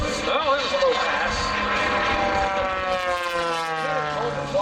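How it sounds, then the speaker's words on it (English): A jet-powered truck makes a low pass down the runway at a regional air show, a loud sustained whining roar with tones that sweep steadily downward as it goes past, heard under crowd and announcer noise. "Jet truck. Oh, that was a low pass."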